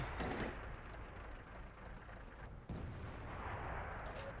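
Artillery fire in a tank battle game: a deep, rumbling boom rolls out and decays, then a second blast thumps in partway through over a low background drone.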